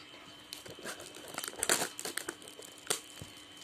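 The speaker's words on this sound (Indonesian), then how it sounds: "Kita pakai gunting teman-teman." Pink plastic packaging being cut open with scissors, giving loud, close crinkling and crackling with irregular sharp snips and rustles, and no talk.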